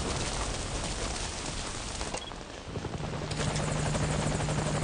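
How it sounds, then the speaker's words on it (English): A helicopter in the Metal Gear Solid V: Ground Zeroes night mission approaches through heavy rain, its dense rotor roar and downpour hiss filling the scene, shifting midway as a steady engine whine emerges and grows louder. "And it sounds like our helicopter is on the way."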